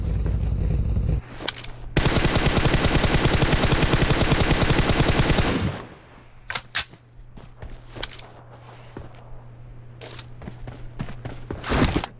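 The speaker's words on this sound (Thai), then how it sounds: "เราโดนยิงข้างหน้า" Sustained rapid automatic gunfire in a shooter game, loud and continuous for several seconds, then scattered single shots and sharp cracks over a low background hum.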